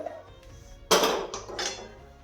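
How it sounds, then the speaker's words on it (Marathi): A metal wok is set down on a gas stove with one loud clank, followed by a couple of softer rattles. "आता कढई गॅसवर ठेवते"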